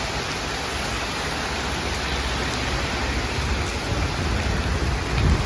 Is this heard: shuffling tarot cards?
no